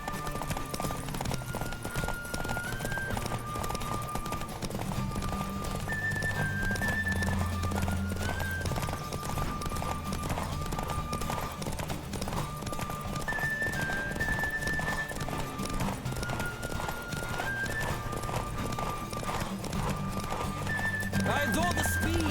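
Horse hooves clip-clop at a gallop with whinnies in The Witcher 3, a steady loud hoofbeat rhythm through the whole stretch, layered with game music and occasional voices talking.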